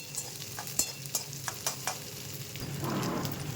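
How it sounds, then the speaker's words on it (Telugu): Urad dal, chana dal, cumin and onions fry quietly in a pan with a soft, even sizzle. A spoon gives several distinct stirring taps and scrapes, and the hiss swells near the end; no speech. "మాడిపోకుండా చూసుకుని వేయించుకోండి."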